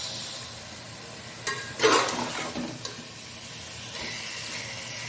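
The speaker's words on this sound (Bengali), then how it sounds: "ভালো করে দই আর ওই পেঁয়াজের যে জলটা বেরিয়েছে ওটা দিয়ে ভালো করে কষে দিলাম।" Onion masala with yogurt is sautéed in a pan for egg biryani: a steady sizzle under a louder scraping stir near the middle, then a few lighter spoon knocks as frying continues.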